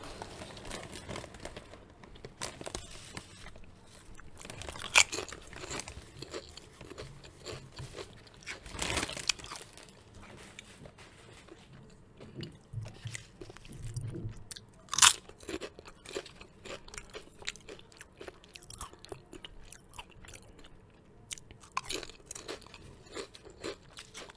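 Snacks from Whole Foods crunched and chewed right at the mouth, quiet overall with scattered sharp crunch bursts, soft chewing between them and faint bag crinkles, no talking.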